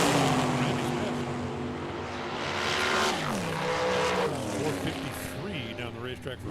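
Loud engines roaring and rising in pitch as dragsters power down the track at Tucson Dragway, with a person talking over the noise throughout.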